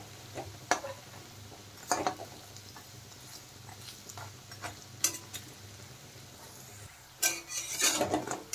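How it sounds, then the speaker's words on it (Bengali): Masoor dal and pumpkin leaf fritters fry crisp in oil with a soft, steady sizzle, broken by sharp clinks and scrapes of a utensil against the pan, louder clattering near the end. "বড়াগুলো কিন্তু মুচমুচে করে ভাজতে হবে"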